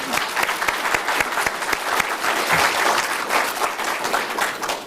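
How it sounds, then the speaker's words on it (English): Audience applause for a scholarship recipient at an English department evening event, a sustained round of clapping with distinct individual claps near the front, steady and continuous throughout. "we should still clap"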